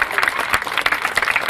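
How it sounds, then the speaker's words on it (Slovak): Applause for youth football players after a league-winning season, a dense burst of many hands clapping close by, steady and loud throughout. "jeden veľký potlesk pre nich"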